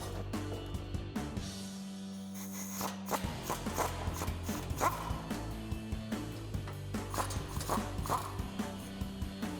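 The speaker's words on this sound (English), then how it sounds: "So now we can take a 15mm socket to remove our two nuts." A socket wrench works the 15mm exhaust flange nuts on a Ford Bronco EcoBoost, giving quiet, steady ratcheting clicks in short repeated bursts, close up with no talking.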